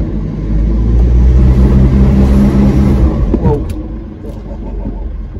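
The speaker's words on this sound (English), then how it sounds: "Hopefully we can get all the vehicles up the top of the hill unscathed." 4WD vehicle engine revving hard while climbing a slippery hill in Avon Valley National Park, Julimar State Forest, with a loud, rising roar that eases off near the end, close and under no clear talk.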